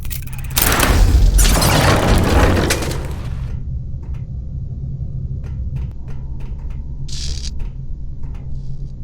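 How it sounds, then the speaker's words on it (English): Heavy bomb explosions in a video game burst out as a loud, deep boom with rumbling debris for a couple of seconds, then fade into a low drone with scattered small clanks and a brief hiss. "The explosions didn't affect the room."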